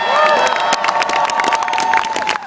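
A large rally crowd cheers and applauds loudly, with shouts and whoops rising over a constant clatter of clapping that fades slightly at the end.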